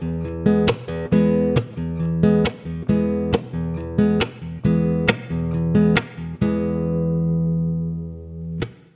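Fast fingerstyle guitar pattern with the thumb driving the low E root, roughly a dozen crisp plucked attacks in a steady 4/4 pulse, close and clear, ending on a held ringing chord before a final pluck.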